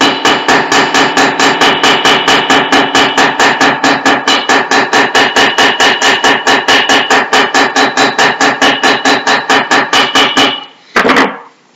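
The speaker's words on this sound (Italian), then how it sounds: "Dunque battiamo, non è che dobbiamo tentare di spaccarlo questo metallo" Rapid, steady hammer blows flattening metal jewelry wire, dozens of sharp regular strikes close by, ending with a brief pause and a final clatter.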